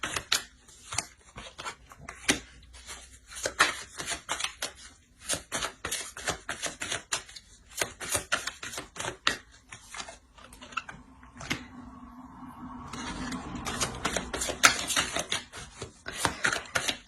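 Tarot cards shuffled and laid out for a horoscope reading, a long run of rapid close riffling and snapping card clicks with short pauses between bursts.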